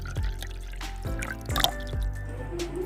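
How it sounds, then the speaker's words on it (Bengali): Homemade herbal karha drink being poured into a cup, soft liquid splashes and drips in a few distinct pulses, close and fairly quiet, with no talk. "কাড়াটা আমি কাপে ঢেলে নিলাম।"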